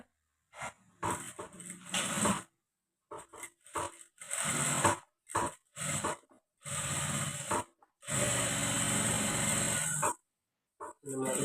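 A sewing machine slowly stitches a blouse in short, uneven bursts with pauses between runs, close and moderately loud, and a voice speaks briefly.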